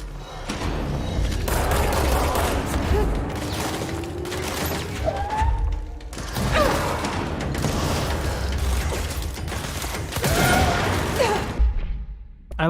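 Video game gunfire comes in dense, loud volleys of rapid shots with thuds and mechanical clatter. It carries on with brief dips and ends abruptly.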